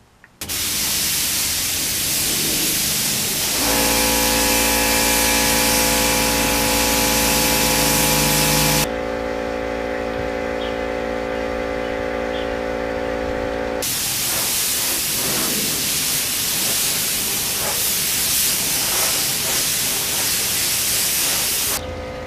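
An airbrush hisses in long, loud, continuous bursts while spraying coats of paint or clear onto a Yamaha FZR motorcycle fairing during a restoration, with a steady tonal hum under the spray, close to the microphone.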